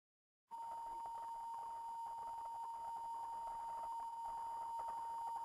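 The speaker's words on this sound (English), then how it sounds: "fire alarm here at Postal Headquarters because we are going through a fire drill right now." A fire alarm's continuous high-pitched electronic tone starts abruptly after a brief silence and holds steadily during an office fire drill, with faint background noise underneath.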